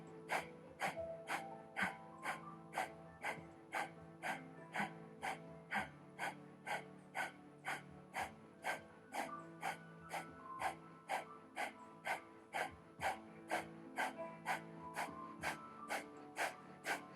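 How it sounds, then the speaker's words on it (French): Breath of fire during a Kundalini yoga session: rapid, rhythmic forceful exhalations through the nose, about two per second, sustained steadily and fairly quiet against a faint background hum. "Et respiration du feu."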